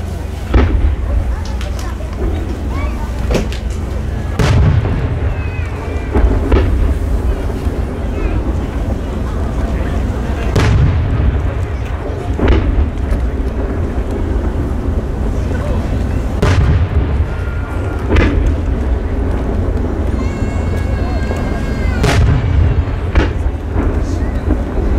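Five-inch aerial shells from Taiyo Fireworks burst at a fireworks competition, multi-layered chrysanthemum shells with double cores opening in three rings; loud booming bursts repeat every few seconds over a constant roar of crowd and wind noise.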